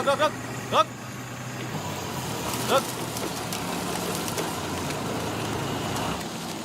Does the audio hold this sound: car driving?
yes